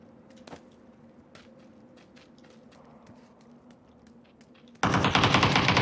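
Sharp video game gunshots pop sporadically at moderate distance, then a loud burst of rapid automatic fire erupts near the end.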